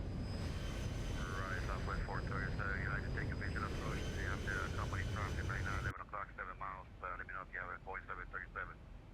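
A Boeing 737 in a flight simulator game gives off a steady, droning engine hum with a faint whine, while voices and crackly radio-style chatter run over it throughout.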